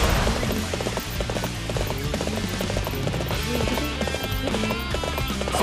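A horse trots in the battlefield action game Dynasty Warriors 7, steady rhythmic clip-clop of hooves with a possible whinny, mixed under dense game music and combat effects.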